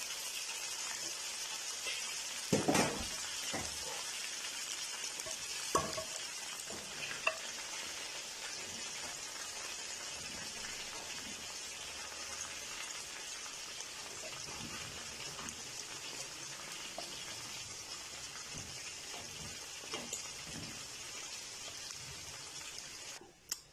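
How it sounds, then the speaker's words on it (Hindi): Chicken pieces fry in hot oil for Kashmiri chicken masala, a constant close sizzle with scattered crackles and a few sharp pops and scrapes of stirring, going on steadily with no talk. "इस तरह तब तक हमने इसे फ्राई करना था, तब सारे चिकन को निकाल लेंगे।"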